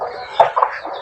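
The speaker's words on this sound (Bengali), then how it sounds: "দেখো আমার মুরগির বাচ্চা দেখো।" Chicks clucking and peeping close by in a few short, bright calls within a single second.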